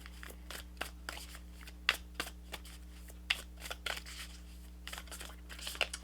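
Tarot guidance cards shuffled by hand in a quiet room, a soft run of papery riffles and flicks with a few sharper snaps, close and low over a steady electrical hum.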